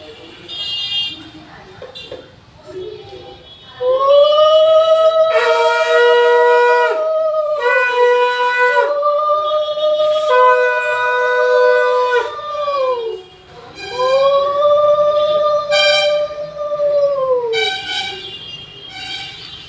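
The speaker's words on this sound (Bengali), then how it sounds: "শঙ্খ বাজাও।" A conch shell blown in long, sustained tonal blasts at a birthday blessing, the steady howling notes swelling and breaking off several times, close and loud, with voices faintly around it.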